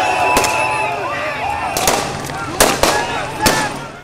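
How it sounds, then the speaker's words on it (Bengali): Police fire on a crowd at a former prime minister's funeral procession, with tear gas thrown: several sharp, loud gunshot cracks ring out at uneven intervals over a constant murmur of crowd noise. "প্রথমে ফাঁকা গুলি আর টিয়ার গ্যাস নিক্ষেপ করলেও এক পর্যায়ে গুলি ছোড়ে পুলিশ"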